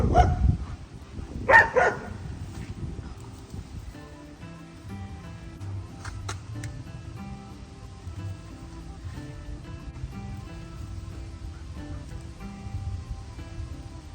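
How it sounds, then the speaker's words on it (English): Dogs barking as they play in a garden: a couple of loud close barks near the start, then quieter, sparser yaps and scuffling over a low outdoor background. "Dogs are playing."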